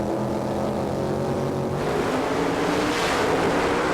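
Two NHRA sportsman drag race cars launch off the line at the 1995 Winston Select finals in Pomona: a loud, sustained engine roar that swells and brightens midway as the cars pull away, with no talk over it.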